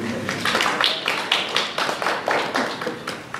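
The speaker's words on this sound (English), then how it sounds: "Well, you guys can clap too." Small audience at a student internship panel clapping, a modest patter of hands in a room with distinct individual claps forming a brief, fairly close round of applause.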